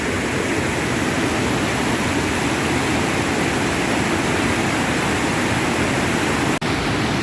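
The waterfall at Yaremche roars in a loud, steady, unbroken rush of falling water close by, with one sharp click near the end.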